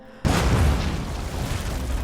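A loud bazooka blast strikes a car in an action film, opening with a sharp boom after a brief hush and rolling into a long, heavy rumble of explosion and debris.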